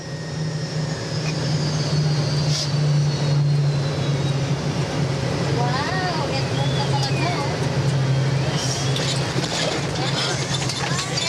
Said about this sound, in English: The plane prepares to land in Manila.